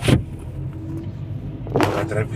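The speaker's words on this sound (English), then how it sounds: "Now let's drive, and then I want you to see how I shift the automatic car, driving it manually. We are driving now." A Hyundai Grand i10 with an automatic gearbox drives along, its low, steady engine and road hum heard from inside the car, broken by two brief louder bursts of noise at the start and near the end.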